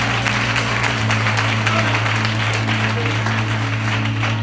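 Congregation applauding together in a church during a youth revival service, a steady, dense wash of clapping with a low sustained hum beneath it and no talking.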